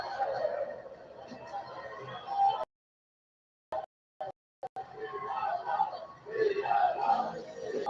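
A wrestling crowd at a WWE NXT show chants and roars from a distance, the sound dropping out briefly in the middle before the crowd noise swells back up.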